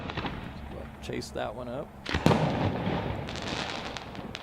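Fireworks at a graduation show in Madera burst and crackle in a dense run of sharp pops and booms, with a loud report near the middle. A person talks over the first half.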